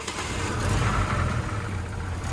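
A 1978 Chevrolet Opala engine with worn ignition points runs and revs gently, a low rough rumble with a slight misfire, steady and close, no voices.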